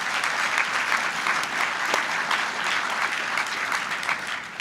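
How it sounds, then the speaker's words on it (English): Steady audience applause at an evening anniversary recognition event, dense and sustained throughout with no speech over it. "Let's give him a round of applause."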